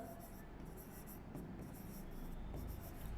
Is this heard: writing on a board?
yes